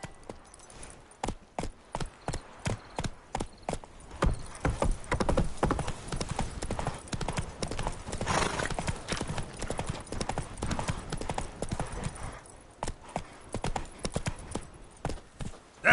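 Hooves of the horse in The Witcher 3 clip-clop along in a steady, rapid trot, loud and close throughout, with faint voices breaking in briefly.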